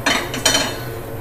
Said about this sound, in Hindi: स्टोव पे रख दिया हमने भगोना को